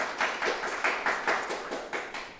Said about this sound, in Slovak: trošku potleskov